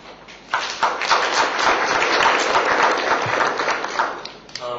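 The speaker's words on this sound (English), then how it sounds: "Please join me once again in giving the panel a round of applause." Conference audience applauding a panel after a discussion of energy politics, starting abruptly and holding a full, even round of claps before thinning out.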